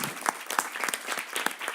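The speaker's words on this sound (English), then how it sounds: "let's give a big round of applause to these wonderful" A short burst of applause for forum panelists, many hands clapping quickly and irregularly, moderately loud.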